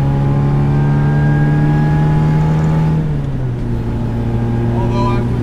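A supercharged 1967 MGB GT engine with an aftermarket exhaust drones loudly and steadily up close, its pitch dropping slightly partway through as it settles into a lower tone.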